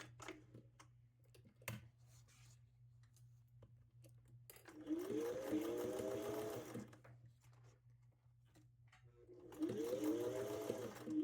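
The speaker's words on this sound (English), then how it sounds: "I start by sewing the ends together of the main piece and then the ends together of the lining piece" A sewing machine stitches the ends of fabric crown pieces together in two separate bursts of steady, fast whirring, each lasting a couple of seconds, with quiet pauses and a low hum between them.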